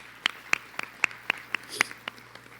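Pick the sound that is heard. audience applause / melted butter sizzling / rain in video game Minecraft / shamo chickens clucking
audience applause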